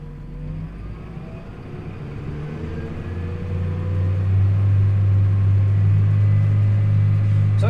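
A farm tractor running a mower and forage wagon in gear gives a low engine rumble that swells into a steady, loud drone as the load comes on, close by.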